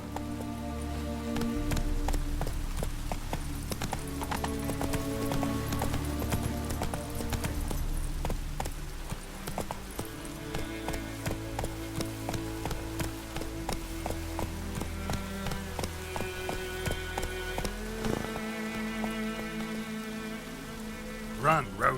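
Horse galloping in The Witcher 3 video game, a fast repeated clatter of hooves over background game music, with the hoofbeats turning sharper and more spaced toward the end.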